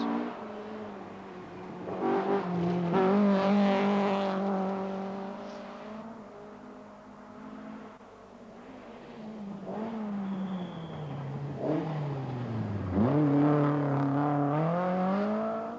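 An Opel Manta rally car on a forest stage revs hard through repeated rising engine sweeps, dropping to a lower drone in the middle before climbing again, loud and close.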